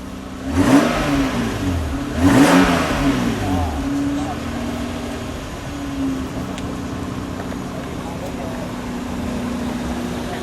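A black 1995 Toyota Supra Mark IV engine revs twice in quick blips, then settles to a steady idle, heard close with people talking over it.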